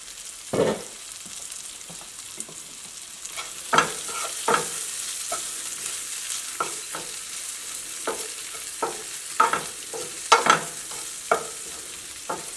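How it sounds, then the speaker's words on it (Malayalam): Shrimp cooking in a pan are stirred, with a quiet background sizzle and a series of sharp, irregular spoon scrapes and knocks against the pan, close and clear. "ഒന്ന് ഇളക്കിയിട്ട് കൊടുക്കാം"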